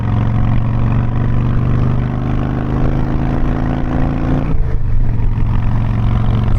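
Harley-Davidson Softail Fat Boy, a 5-speed motorcycle, accelerating toward 70 mph: a loud, steady engine drone with deep harmonic rumble that climbs in pitch, then breaks off for a gear change and settles into a lower note, with wind noise throughout.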